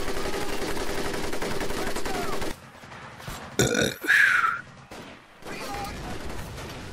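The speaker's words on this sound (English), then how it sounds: "They're shooting from the trees" Bursts of gunfire from enemies hidden in trees in the jungle of Guadalcanal in Medal of Honor: Pacific Assault, dense rapid shots at first, then a few louder separate cracks and blasts amid battle noise.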